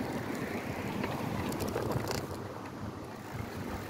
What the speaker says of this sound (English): It's so windy, you can't open an umbrella.